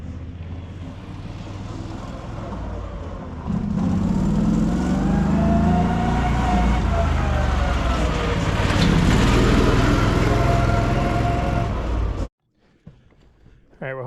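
A Fland FL45 Chinese wheel loader shifted into its highest gear roars louder as the diesel engine revs up and the machine picks up speed, a sustained rising drone before cutting off abruptly near the end.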